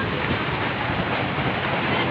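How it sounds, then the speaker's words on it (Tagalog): A strong wind blows steadily outdoors, a dense, loud, unbroken rush with no speech over it. "Uy, napakalakas naman ng hangin na ito."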